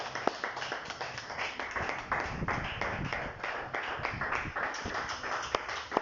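Church congregation clapping and cheering for the Holy Spirit at a French-language evangelical service, a dense steady roar of many hands with scattered sharper claps throughout.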